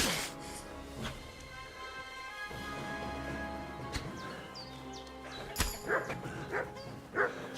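A dog barks in the medieval game Kingdom Come: Deliverance II. Several short, fairly loud barks come near the end over a busy game-sound background, with horse hoof clopping mixed in.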